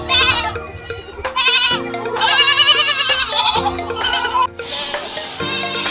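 Several goats on a breeding farm bleat loudly and close by, overlapping wavering cries one after another with barely a pause, no talk heard.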